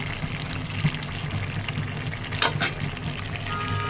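Baila fish frying with pointed gourd, taro and a little shrimp on a gas stove, a dense crackling sizzle held close and steady, with a pair of sharper spattering bursts near the end.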